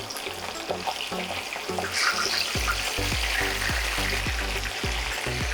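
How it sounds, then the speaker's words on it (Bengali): A fish head frying in hot oil in a pan, with a steady crackling sizzle and a series of low knocking thuds as it is turned and moved. "আর 2 মিনিট ভাজা হলে পরে কিন্তু মাছের মাথার ভাজাটা আমাদের কমপ্লিট হয়ে যাবে"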